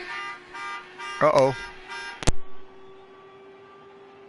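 An alarm tone in an Indy car practice setting: short repeated buzzy pulses, then a rising warbling wail and a sharp click, with a person briefly reacting over a steady background hum.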